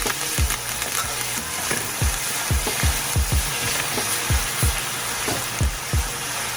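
Scallion and thyme hit hot oil in a frying pan while Jamaican ackee and saltfish is cooked, giving a steady close sizzle broken by repeated sharp scrapes of a stirring spoon against the pan.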